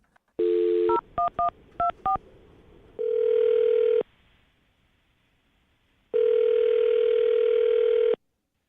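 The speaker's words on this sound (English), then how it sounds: "I'm going to dial her phone number right now" A steady telephone dial tone, then a quick series of dialing beeps, followed by longer ringback tones with a quiet pause between them.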